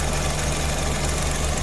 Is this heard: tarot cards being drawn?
no